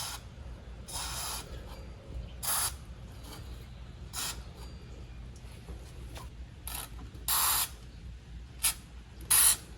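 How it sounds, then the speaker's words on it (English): White lithium grease from an aerosol can is sprayed through a precision straw into a truck's rear brake housing in several short, sharp hissing bursts separated by quiet pauses, close up. "Come inside here and just apply some white lithium grease."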